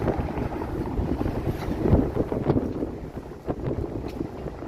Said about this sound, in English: Holy wind again.